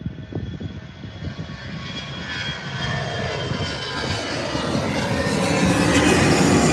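An airplane flying past a plane spotter, a loud broad engine roar building steadily louder as it approaches and nears overhead, with no talking.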